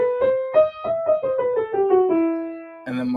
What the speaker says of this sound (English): Harmonic would raise the 7th, going up and down.